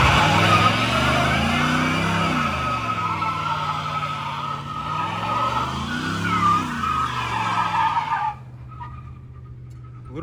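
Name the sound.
Hemi car doing a tire burnout on wet ground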